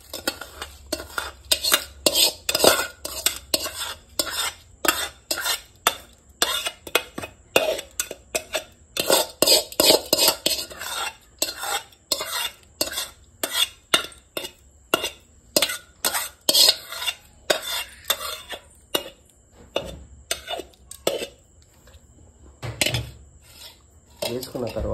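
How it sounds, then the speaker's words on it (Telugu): A metal spoon scrapes and clinks rapidly against a steel vessel while mixing tempering into curd rice, a continuous run of sharp knocks and scrapes close to the mic, mostly without talk. "వేసుకున్న తర్వాత ఇట్లా నీట్గా కలుపుకోవాలన్నమాట"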